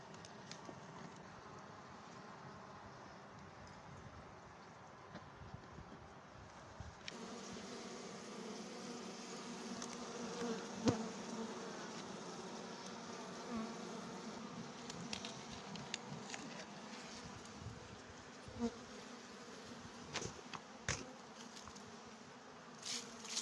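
Honeybees drone continuously around a wild honey hive set in rock and trees, a steady, dense buzz that swells slightly partway through, with occasional brief knocks and no speech.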